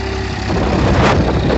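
Brief close burst of a Massey Ferguson 1035 tractor engine hauling a cultivator through heavy sand, a loud low rumble that rises in effort after a short moment.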